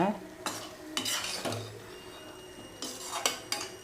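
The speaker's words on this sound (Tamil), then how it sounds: "இப்போ நல்லா அதை கிளறி கொடுத்துக்கலாம்" A spoon stirs a prawn and ridge gourd gravy in a pot in bursts, scraping and clinking against the metal with a faint simmer between strokes and no speech.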